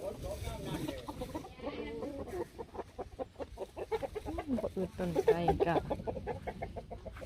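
Chickens cluck and chatter close by, mixed with people talking throughout.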